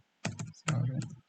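Computer keyboard keys tapped in two short bursts of typing, close and fairly quiet, with brief pauses between.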